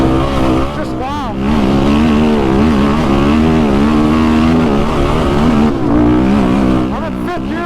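A car driving in fifth gear: a loud engine drone rises and falls in pitch as it moves over rough terrain, with brief voices heard over it.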